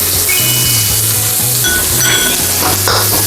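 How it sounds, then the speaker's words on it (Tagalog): Garlic and onions sautéing in hot oil for a pork and vegetable dish, giving a loud, constant sizzle with a spatula scraping and clinking against the pan. "Sabay lang po natin ang ating garlic hanggang sa lumabas ang kanyang aroma."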